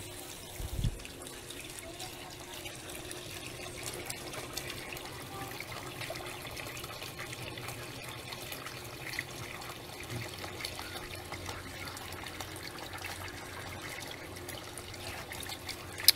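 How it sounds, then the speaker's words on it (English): Water trickles and spills steadily over the sides of a chlorine bucket beside a gold sluice, a faint continuous outdoor dribble with a low hum underneath. "the water pours out the sides because this is a chlorine bucket"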